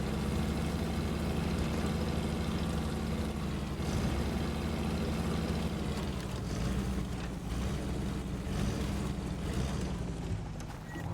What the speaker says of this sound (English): That sounds like the old V8, V6 engine that they would have in this thing.